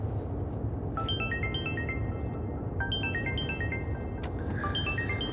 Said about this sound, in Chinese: 电话一直在响，快接吧